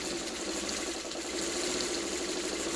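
A sewing machine runs continuously while stitching a fabric pet bed stuffed with heavy scraps, giving a steady, close mechanical whir with fast rhythmic chatter and no pauses or talking.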